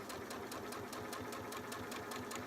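Steady, rhythmic mechanical chatter of a sewing machine stitching a quilt seam with a 1/4 inch foot, even needle strokes running continuously at close range with no talking.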